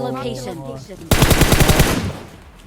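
Rapid automatic gunfire in the battle royale game PUBG, a loud sudden burst of closely spaced shots that starts partway through after quieter game ambience and low voice-like tones, then trails off.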